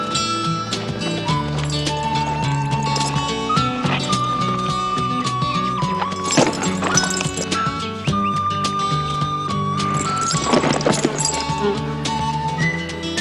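Horse hooves clip-clop in a steady rhythm with a whinny, set under a busy orchestral western film score that runs loud throughout.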